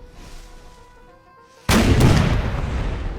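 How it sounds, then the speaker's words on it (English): Cannon artillery fire in Napoleon Total War, a Napoleonic-era battle game: one loud, close, booming shot bursts in after a quiet stretch of faint ambient tones, then a sustained rumbling roar of gunfire carries on. "Looks like we managed to get a few cannon shots going through them"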